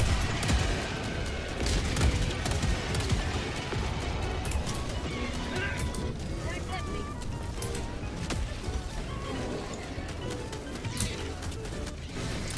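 Gunfire in the co-op shooter Helldivers 2, rapid bursts and crashing impacts in a dense, chaotic mix that runs throughout, with voices shouting over the action.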